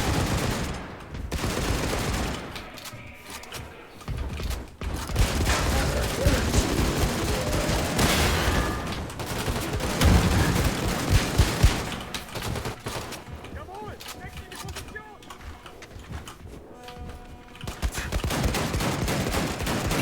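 Sustained gunfire in Wolfenstein II: The New Colossus as an enemy shoots through a wall, loud bursts and rapid fusillades running almost continuously, with a few short lulls between volleys.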